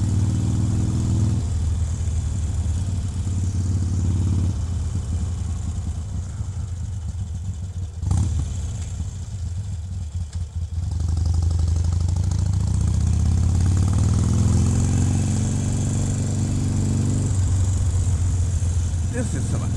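A Harley-Davidson Iron 883 V-twin motorcycle engine rumbles loud and close throughout while riding, dipping briefly near the middle before swelling again as the rider talks over it.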